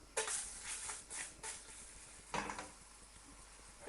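A pancake is flipped in a frying pan, with quiet clatters of pan and utensil over a soft sizzle, a few short knocks spread across a few seconds.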